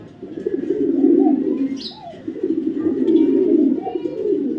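Racing pigeons imported from the Netherlands cooing close by, two long throaty rolling coos in succession with faint chirps above, loud and alone without talk.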